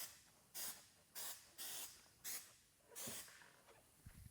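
Glass sealant is sprayed onto a wet car window in five short, sharp hissing bursts at a steady rhythm, close and clear in an otherwise quiet setting.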